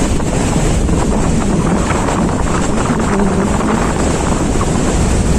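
Waves roll in at Mandarmani sea beach, a loud, steady roar of surf heavily mixed with strong wind buffeting the microphone throughout.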